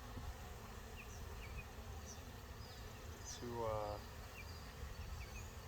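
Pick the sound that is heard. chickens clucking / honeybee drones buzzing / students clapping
honeybee drones buzzing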